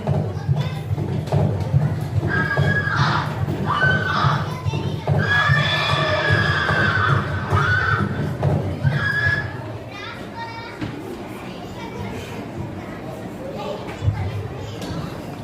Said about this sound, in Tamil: திருடர்களின் தலைவர் கம்பீரமாக குதிரையில் வருகிறார்.